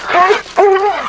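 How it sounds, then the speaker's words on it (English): A Belgian Malinois search and rescue dog gives two close, loud vocal bursts, each sounding like a drawn-out bark or whine, with a short gap between them. "Kona is a Belgian Malinois, a dog that is popular with police departments"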